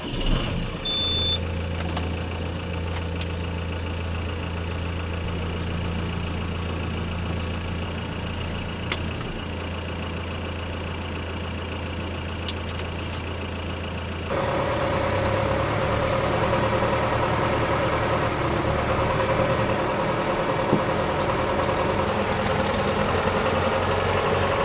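A tractor pulling a trailer rumbles steadily during a harvest, its low engine drone continuous and fairly close, growing louder and rougher about two-thirds of the way through, with occasional clanks and no speech.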